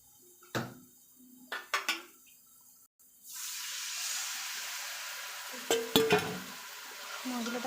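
Spice paste of ground onion and turmeric is stirred in a pan, with a few metal scraping knocks from the spatula, then a steady frying sizzle rising under further clinks of stirring.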